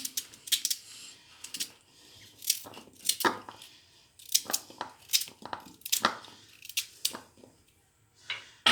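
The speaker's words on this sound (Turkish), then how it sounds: "bunları böyle normal doğruyorum" Carrots and potatoes are chopped with a knife for red lentil soup, a string of crisp close cuts and board knocks in uneven bursts, with brief pauses between runs, no speech.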